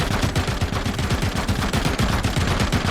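Rapid bursts of gunfire from the video game RoboCop: Rogue City, dense repeated shots in fast overlapping volleys, loud and continuous throughout with no talking.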